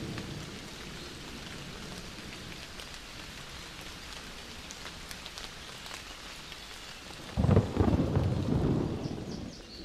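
Steady rain patters on surfaces under a soft rumbling thunderstorm, then a louder, nearer roll of thunder swells about three-quarters of the way through and fades under the rain.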